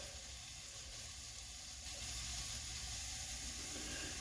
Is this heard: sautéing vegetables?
yes